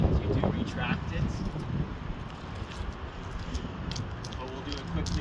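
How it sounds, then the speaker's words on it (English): Steady wind buffets the microphone outdoors, a continuous low rumble with gusty swells that holds at a constant level throughout. "It's a little bit windy here today"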